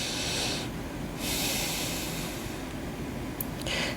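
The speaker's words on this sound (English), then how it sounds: "Now I want you to take a deep breath and exhale." A slow, deep breath drawn in and let out during a guided meditation, soft airy breathing heard up close over a faint steady hiss, with no speech.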